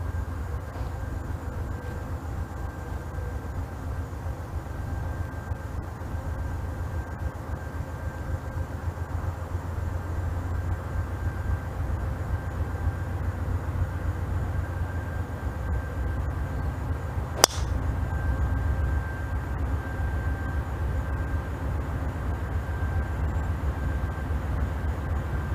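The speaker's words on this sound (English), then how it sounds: "I hear the train coming now, so you're not going to be able to hear me anymore" A train passes near the Pebble Beach golf course at dusk, a steady low rumble with a constant horn-like tone holding throughout and a single sharp crack near the end, no voices.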